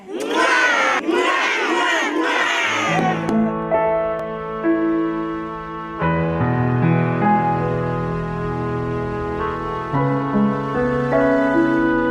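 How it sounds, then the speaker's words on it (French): A crowd of orphans and guests at a thanksgiving day celebration in Gabon bursts into loud acclaim and cheering for a few seconds, then gives way to sustained music. "Bravo! On acclame!"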